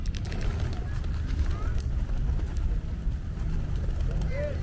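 Pigeons coo in an outdoor setting in Otavalo, Ecuador, soft murmuring calls rising now and then over a steady wash of background noise, with voices nearby.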